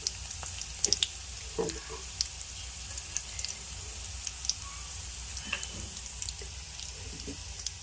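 Cumin and mustard seeds sizzle softly in hot oil for a Telugu coconut chutney with ridge gourd, a steady faint crackle with scattered small pops throughout.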